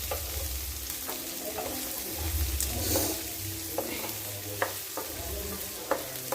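Fish fries in a pan with a soft, steady sizzle, broken by sharp scraping and tapping strokes from stirring at irregular intervals, close by.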